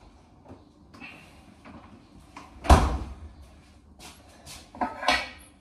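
A door is handled indoors, producing soft creaks and shuffles, one sharp thud midway, then a couple of further knocks and bumps near the end.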